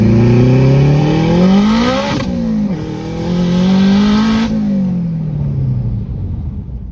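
An EP3 turbo car with a Sidewinder exhaust manifold accelerates hard on boost, a loud, close engine note climbing steadily through the gears with brief dips at the shifts, then fading away at the end.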